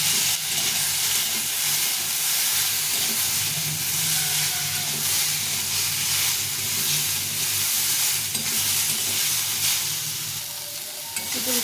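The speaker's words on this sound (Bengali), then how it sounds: "এটা উচ্ছে আলুটা ভাজা ভাজা হয়ে গেছে লবণ হলুদ দিয়ে।" Bitter gourd and potato pieces fry in a pan with salt and turmeric, giving a steady, dense sizzle and hiss that runs unbroken and fairly loud with no talking.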